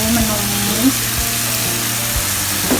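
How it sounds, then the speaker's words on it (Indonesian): Blended spice paste sautéing in a pan for East Javanese beef rawon, a steady close sizzle and fry with a faint stirring scrape and a few brief clinks. "aku menumis dari bumbu yang tadi aku blender"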